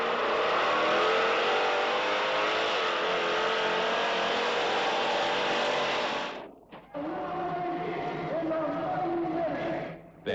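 A 1,000-horsepower Bigfoot 1 monster truck engine roars loud and steady, dropping out briefly before picking back up, with a dense broadcast-style mix and voices faintly underneath.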